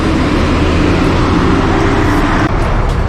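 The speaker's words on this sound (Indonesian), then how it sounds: "Gak lama disusul bus Lubuk Pasung Jaya ini. Ini segera berangkat ke Tanah Rantau." Lubuk Pasung Jaya bus pulling away, a loud, close, continuous engine rumble mixed with roadway noise.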